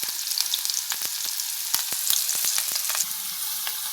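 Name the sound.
onions and green chillies frying in oil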